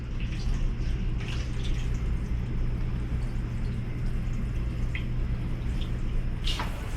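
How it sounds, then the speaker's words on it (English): A steady broadband hiss of water sprayed along the back and door of an RV shower, close and continuous, with a few faint drips and splashes scattered through it. "I'm gonna spray water all along the back, all along the door."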